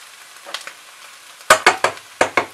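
Bacon and egg frying in a pan give a faint sizzle, broken by a cluster of sharp, crisp scraping taps, each decaying quickly, with no talking.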